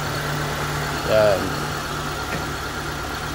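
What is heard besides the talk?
car engine idling after refresh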